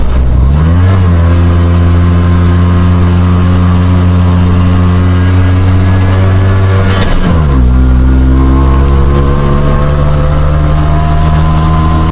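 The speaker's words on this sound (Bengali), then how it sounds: "অটোর যে কষ্ট হচ্ছে সেটা তার আওয়াজেই বোঝা যাচ্ছে" An auto rickshaw's engine drones loud and steady as it strains up a steep road toward a temple, its pitch dipping sharply about two-thirds through before settling into a lower, labouring hum.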